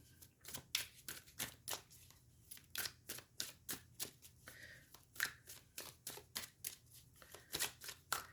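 Enchanted Map Oracle cards being shuffled: a rapid, regular series of crisp, close riffling snaps, about two per second, fairly quiet and with no voices.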